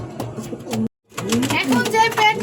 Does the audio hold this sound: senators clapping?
no